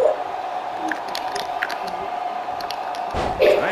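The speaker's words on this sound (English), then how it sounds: "The sound of this crowd is deafening" A WWE 2K23 arena crowd roars as a continuous wash of cheering, with a heavy thud near the end and a swell in loudness, under a commentator's voice.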